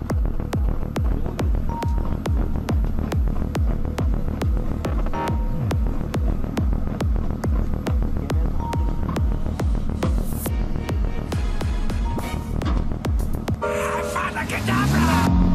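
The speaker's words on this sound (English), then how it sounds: "Using the auxiliary power unit, the gun can move at a maximum speed of 7 kilometers per hour." A 155mm self-propelled howitzer creeps along on its auxiliary power unit, giving a loud, steady low engine throb with a constant hum, and some metallic clanks and rattles toward the end.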